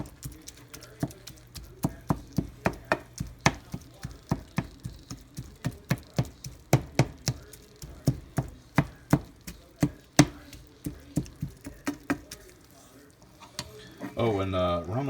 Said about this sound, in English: I'm going to just keep it turned, and I'm going to keep it broke up where when I dump them eggs in there, it will all be little pieces of hamburger meat